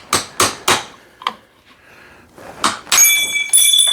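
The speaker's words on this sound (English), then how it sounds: "that should be easy enough to hammer out real quick" Hammer blows drive a bearing race out of a plate from a Brunswick GSX pinsetter universal drive assembly, three quick sharp strikes then scattered taps, followed by a ringing metallic ding as the part comes free.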